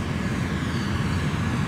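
Steady broadband drone of a Douglas World Cruiser plane engine in a flight simulator game, constant and loud with no breaks and no voices over it.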